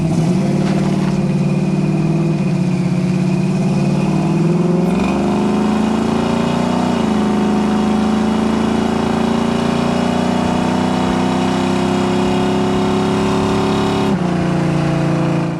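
A 1971 Chevrolet Chevelle SS V8 revs hard and pulls steadily through acceleration, its loud continuous roar rising in pitch with a gear change near the middle, close and alone with no talking.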